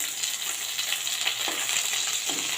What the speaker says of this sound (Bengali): লাল লাল করে একটু কড়া করে মাছগুলো ভেজে নিলাম